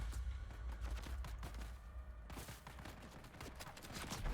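Rapid bursts of assault rifle fire from several guns in the Deep Desert video game, loud and sustained, with dense overlapping shots throughout and no talking.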